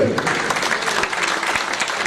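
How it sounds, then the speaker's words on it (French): Audience applause at a conservatory tribute evening, steady dense clapping from a seated crowd filling the room for a couple of seconds, with a voice faintly mixed in underneath. "Marie-Michel et Ciel, qu'on peut applaudir également, qui est avec nous ce soir."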